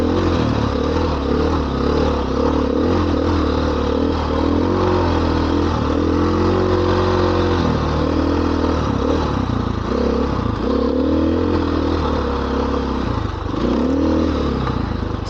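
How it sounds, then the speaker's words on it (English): A Suzuki DRZ dirt bike rides a forest trail, its single-cylinder engine droning loudly and continuously up close, with repeated throttle swells and clattering over rough ground. "It is a fantastic motorcycle."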